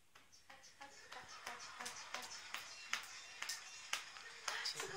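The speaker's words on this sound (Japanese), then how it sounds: "拍手うまいね。" A baby claps their hands in a string of light, quick pats, several close together, under soft adult talk and coos.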